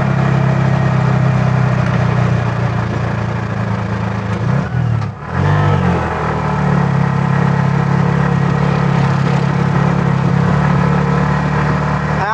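A Bajaj RE auto rickshaw's small engine drones steadily while driving on a rough road, loud and close, with a brief dip in the middle before resuming its even hum.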